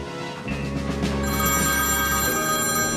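An old landline telephone rings with a continuous electronic bell tone that swells in after a short moment and holds steadily, loud and close, with no talking.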